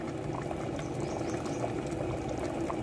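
Fish curry simmering in a clay pot, a steady close bubbling boil with soft pops and gurgles throughout, no voices.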